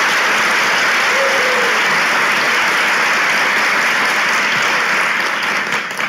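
A studio audience at Taksim Grand Pera breaks into loud, continuous applause to open a relationship-test show. The sustained wash of clapping stays close and even, fading slightly only at the very end.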